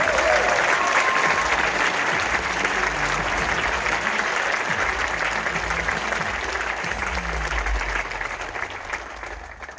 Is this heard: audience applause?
yes